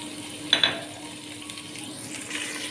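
Curry leaves dropped into hot garlic-ginger paste for a masoor dal curry, giving two sharp crackling bursts followed by a steady, moderate sizzle.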